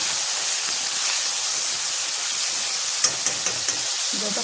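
Cut potatoes hiss and sizzle steadily in hot mustard oil tempered with dried red chillies and bay leaf, a continuous close frying sound with no talk.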